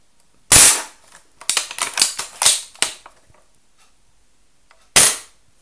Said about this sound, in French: Je vais tirer à peu près là où j'ai pas encore tiré.